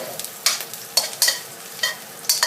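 Garlic and shallots stir-fried in oil for a Thai-style soy-sauce fried napa cabbage dish, with steady broadband sizzle and a string of sharp spatula scrapes and stirs coming every half second or so, close and without talk.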